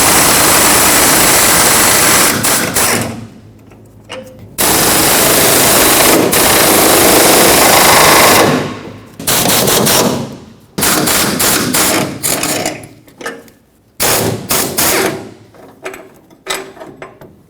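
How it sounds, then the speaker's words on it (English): A power tool with a T45 torx socket hammers out the tailgate hinge bolts on a 2011-2016 Ford F-350: loud, rattling impact bursts, some long and some short, separated by brief pauses, very close. "Use a T45 torque socket and remove the two bolts holding on this tailgate hinge."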